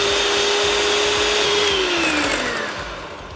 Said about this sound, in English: And now it's time to start whisking.